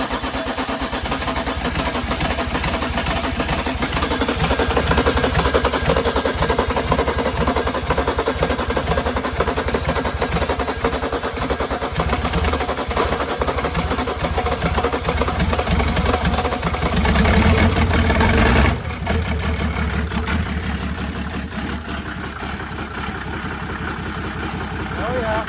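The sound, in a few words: car engine being started and idling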